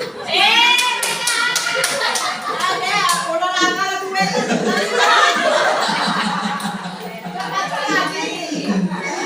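A group clapping game with left and right hands clapping together, a run of sharp, evenly paced claps up close, mixed with children's chuckles and laughter and voices talking over the rhythm.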